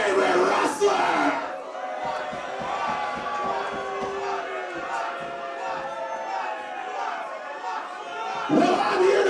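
A bar wrestling show crowd cheers and yells loudly and continuously, with many voices shouting over one another and a few sharper whoops near the start and end.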